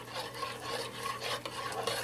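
Milk and pumpkin are whisked steadily in a pot on the stove, making a continuous close scraping and swishing with a soft sizzle underneath, without talk.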